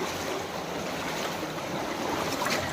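Steady rushing water fills the whole stretch, a continuous broadband wash of a stream flowing through Robbers Cave in Dehradun, close and fairly loud with no voices.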